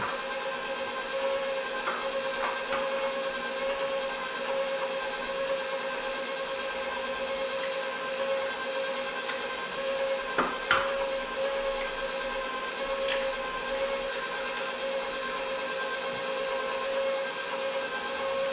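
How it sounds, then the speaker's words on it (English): An electric mixer beats white sugar with the other ingredients for a banana cake, a steady mechanical whir with a sustained tone that runs continuously at moderate level, with a few small clicks partway through. "And we start mixing."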